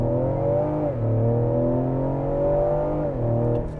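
A 2023 Ford Explorer ST accelerating hard from a launch, its engine droning loudly inside the cabin with a steady rising tone that dips briefly at each gear shift.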